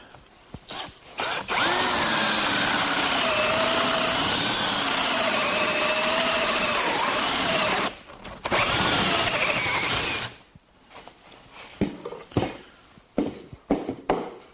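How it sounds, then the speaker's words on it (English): A power drill bores a 2-inch hole through a wooden board backed by a backing board, a loud sustained whine and grind that runs for several seconds, pauses briefly, resumes, then stops, followed by scattered knocks and handling clatter. "what I want to do is drill that 2-inch hole to accept this plastic portion of the 2-inch dust collection system"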